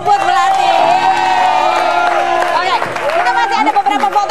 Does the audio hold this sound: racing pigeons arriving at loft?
no